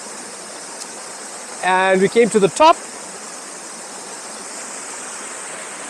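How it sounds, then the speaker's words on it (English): Steady broadband roar of Grey Mare's Tail Falls in South Africa, heard from the top of the waterfall at the end of a mountain hike, rushing continuously throughout with a brief burst of talking near the middle. "So can you see the waterfall?"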